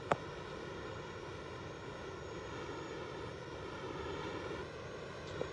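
A helicopter in a video game gives off a steady, droning engine and rotor hum that holds at an even level throughout, with no talking over it.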